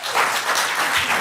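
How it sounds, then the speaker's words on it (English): Applause from the audience at a Charleston County Council meeting after a failed motion vote, a dense steady wash of many hands clapping for just over a second, loud and continuous. "We hold your applause, please."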